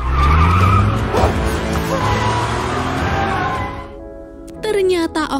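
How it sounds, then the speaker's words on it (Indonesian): A Porsche speeding out of control in a Transformers film screeches its tires in a loud, sustained skid over a roaring engine, which cuts out briefly before sharper squeals return. "mobil itu melaju seperti tidak terkendali"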